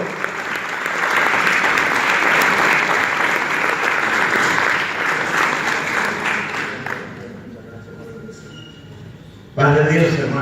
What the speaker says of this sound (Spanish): Un aplauso al Señor por esta preciosa vida.